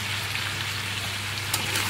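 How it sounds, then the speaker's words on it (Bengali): Meat frying in a pan with chili powder and ginger-garlic paste gives a steady, close sizzle for the whole stretch, with one brief stir or clack near the end. "তো এখন একটু নাড়াচাড়া করে নিই।"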